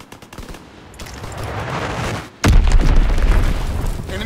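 Call of Duty: WW2 multiplayer combat during an enemy strafing run: rapid machine-gun fire rattles, then a heavy booming explosion hits halfway through and dense gunfire and blasts roar on, loud and close.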